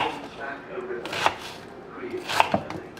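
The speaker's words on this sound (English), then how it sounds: "Watch what you're chopping" A knife chops on a cutting board in a few sharp, separate strikes over a faint background hush.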